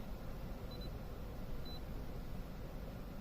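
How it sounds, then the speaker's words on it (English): Two short, thin electronic beeps from a Launch diagnostic scanner set up for a Toyota, spaced about a second apart, sound faintly over a steady hiss. "Gives you a few beeps there, of course"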